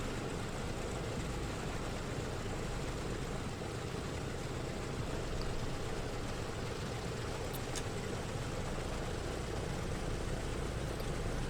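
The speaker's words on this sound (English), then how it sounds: "Engine 3 looks like we've got a good start." Engine 3 of a PMDG DC-6B propeller airliner in Microsoft Flight Simulator 2020 runs steadily just after start, a constant dense droning roar with no talk over it.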